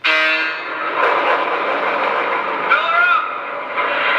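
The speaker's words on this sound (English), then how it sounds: "I like that sound of the fuel going in." A Lionel Alco S4 model diesel switcher in Santa Fe or Lackawanna livery plays its refueling sound effect, a steady, close, rushing hiss with tonal whine running continuously for several seconds.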